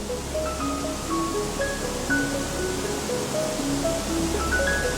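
Steady broadband rushing of Seljalandsfoss waterfall in Iceland, constant and fairly loud, with faint scattered tones over the roar and no talking.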